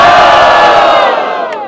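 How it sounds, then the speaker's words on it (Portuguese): A crowd at a Brazilian rap battle in Barueri roars and cheers loudly, a sustained close shout of many voices that slowly fades toward the end. "barulho para as rimas de Refeu!"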